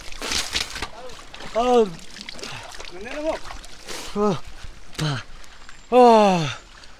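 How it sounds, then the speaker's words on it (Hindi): Cool water is splashed and scooped by hand while a man washes his face and feet outdoors, wet sloshes coming in bursts under his talking. "थोड़ा मुंह भी धो लेता हूँ"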